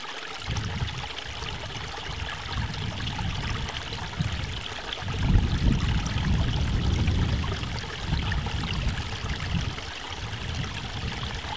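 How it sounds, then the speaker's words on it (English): A hillside stream flows steadily close by, water rushing and trickling without pause while a fairly strong breeze gusts over it in uneven swells. "Just the sound of the water, the breeze is a little strong, you might be hearing that as well"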